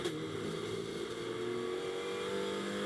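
A GT2 race car accelerating along the back part of Misano circuit toward turn 8, a loud, sustained, rising engine drone with steady harmonic whine throughout, heard as trackside broadcast sound.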